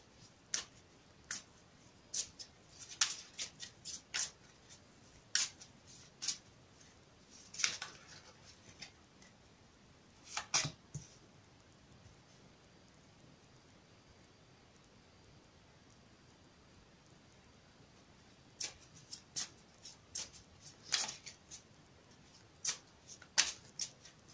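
A tarot deck is shuffled in sharp, sporadic bursts of card riffling and snapping, close and crisp, with a long quiet pause in the middle.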